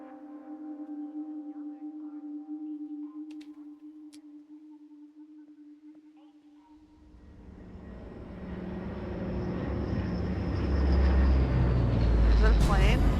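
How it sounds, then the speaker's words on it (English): A loud airplane flies overhead in the horror game Into the Dead, rising from a quiet hum into a broad roaring rush that swells and grows louder toward the end. "That was a very loud plane."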